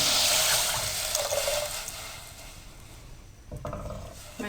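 Water poured into a pan of fried garlic curry masala, a broad splashing rush that is loudest at first and then eases into softer sizzling and stirring, with a brief clatter near the end.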